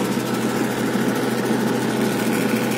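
A tractor engine runs steadily at a set RPM while driving a reaper pulley, giving a constant, even drone with a faint vibrating buzz, close and alone.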